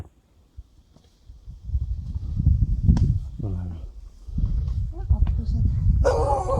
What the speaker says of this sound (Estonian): Oi, kui tore koer!